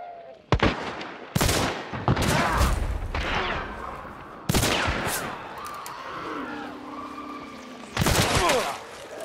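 Repeated shotgun blasts in the video game Hunt: Showdown, five or six loud, sharp booms spaced irregularly over several seconds, with faint background noise between shots.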